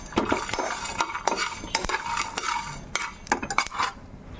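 Peanuts and coriander seeds roasting in a metal pan, with a spoon scraping and stirring. Irregular clinks and scrapes come close and fairly loud, alone with no voice.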